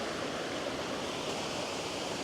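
River water flowing on a hiking route on the Isle of Skye, a steady broadband rush with no breaks, fairly soft and continuous, with no voices.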